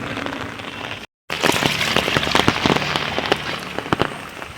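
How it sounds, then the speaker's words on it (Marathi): Heavy continuous monsoon rain pours steadily on a road, a dense hiss with sharp drops pattering on a hard surface nearby; a brief dropout interrupts it early on. "कालपासून जो पाऊस चालू आहे ना ती संततधार पावसाची चालूच आहे"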